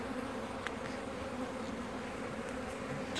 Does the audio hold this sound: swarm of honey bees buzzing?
yes